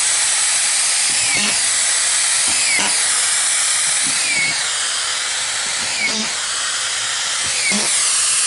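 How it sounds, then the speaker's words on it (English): Power drill driving screws into an RV roof deck in short repeated bursts, each a whining spin-up roughly every second and a half, close and loud over a steady hiss. "I'm going to screw it down."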